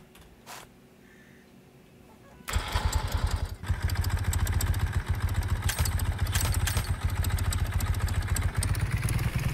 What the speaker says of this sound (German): wir könnten das Motorrad hier reinstellen